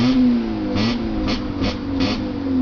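A Vauxhall Astra H 1.6 petrol with a centre exhaust revs hard up close, giving a steady raspy drone that swells in several short rev bursts.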